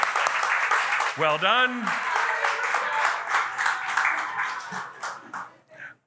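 Audience applause for storyteller Angela at a live storytelling event, steady broadband clapping lasting throughout, with a host's voice speaking over it and a brief voice-like tone near the start.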